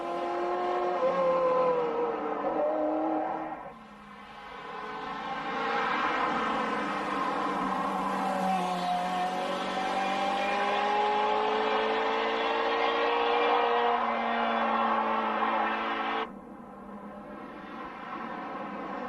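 Ferrari F355 GTS accelerating hard, its high engine note climbing through the gears with sharp upshift breaks, loud and close with no voices.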